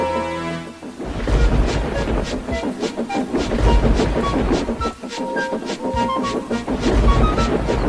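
Gordon the steam engine racing down the main line as the weather worsens, loud rhythmic clattering of wheels that starts after a moment and runs throughout, with dramatic music and rumbling under it.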